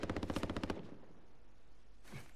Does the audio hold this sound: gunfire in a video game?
yes